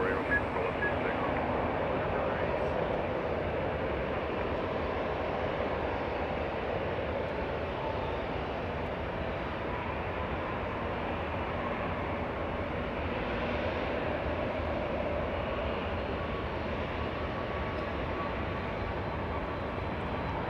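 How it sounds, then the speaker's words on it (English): An Air Canada Boeing 737 MAX 8 takes off at Los Angeles International Airport, its engines a steady, broad jet roar heard from a distance that holds for about twenty seconds, with no talking. "Looks like Air Canada getting a move on that one, flying to Vancouver."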